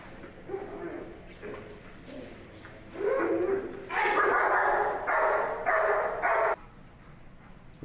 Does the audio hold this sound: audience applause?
no